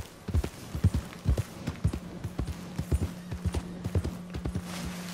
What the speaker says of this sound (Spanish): Hey, hace como un sonido raro este caballo.